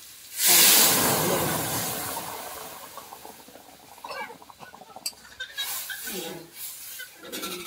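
Boiled lentils poured into a hot pan of fried mango and onion: a sudden loud hissing sizzle that slowly fades, followed by softer bubbling and faint clatter.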